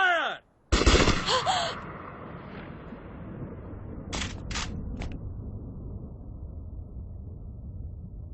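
Gunfire from a firing squad in a Hindi-dubbed film: a loud volley of sharp shots bursts out right after an order to fire, followed by a few quieter, clipped shots and a lingering low background.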